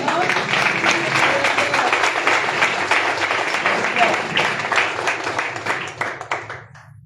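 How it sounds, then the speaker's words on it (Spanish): Congregation applauding during a church service, a dense, steady wash of many hands clapping close by that tapers off near the end, with faint voices mixed in. "Demos un aplauso al Señor."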